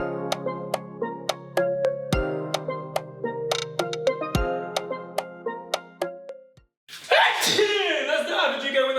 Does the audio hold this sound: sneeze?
yes